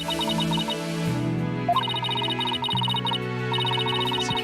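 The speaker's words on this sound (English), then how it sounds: "I can hear my phone and I don't know where it is" A mobile phone ringtone plays in a room, a bright repeating melodic chime that loops several times, clear and fairly loud with no talking over it.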